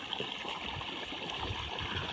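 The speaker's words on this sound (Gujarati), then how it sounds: "તો તમે જોઈ શકો છો પાણી ચાલુ છે અને થોડી કાંકરાવાળી જગ્યા છે" Shallow water runs through a gravelly spot, split into a few small channels. It makes a faint, steady trickling and gurgling wash with no voices.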